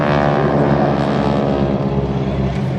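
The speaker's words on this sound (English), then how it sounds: "that warning that you hear there comes from the big R885 engine driving a huge standard Hamilton propeller" A wingwalking biplane's big R885 radial engine driving a large standard Hamilton propeller drones steadily and loudly at an airshow, a continuous rich throbbing roar with no pauses or voices.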